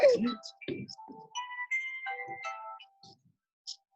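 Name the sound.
mobile phone ringtone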